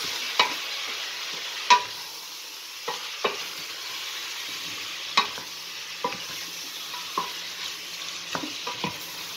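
Meat fries with lime leaves, star anise and cardamom pods under a constant soft sizzle, while a utensil scrapes and taps the pan now and then, close with no talking.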